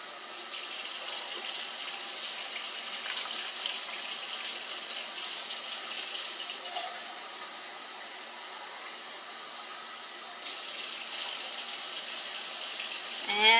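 Water runs steadily into a soup pot for a chicken tortilla soup, a continuous hissing pour lasting several seconds that briefly softens midway, then resumes. No talking.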